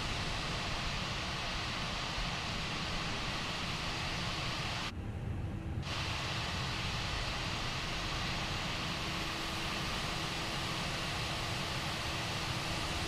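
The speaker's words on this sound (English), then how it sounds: "We'll shut the left engine off." A Fenix A320 airliner in Microsoft Flight Simulator with its left engine shutting down, a steady broadband whine and rush with a brief drop in the upper range near the middle, fairly faint and with no talk.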